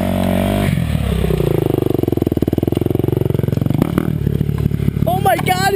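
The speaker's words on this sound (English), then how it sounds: "it's a dirt bike!" A dirt bike engine revs up with a rapid, buzzing pulse, loud and close, climbing a hill, while a voice speaks excitedly over it near the end.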